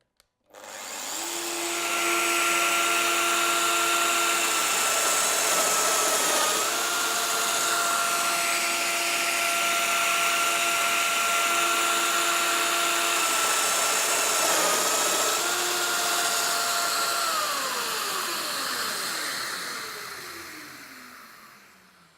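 A Festool DF 700 domino joiner plunge-cuts wood with a dust extractor attached, giving a steady loud whine and whoosh of suction. Its pitch dips during the cuts, then spins down at the end, with no talk.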